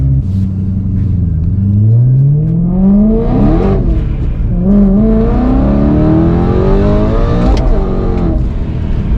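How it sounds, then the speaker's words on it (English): A boosted car revs hard with rising engine pitch as it accelerates through gears with wheelspin, heard loud from inside the car with a steady rumble beneath. "So we're gonna see how Jared likes it, going sideways all over the road"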